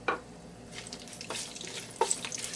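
Whole spices (cloves, cardamom, black cardamom, cinnamon, black peppercorns, cumin and bay leaves) hit hot oil in a pot for one-pot chicken pulao and give a soft sizzling hiss with a few sharp crackles and pops.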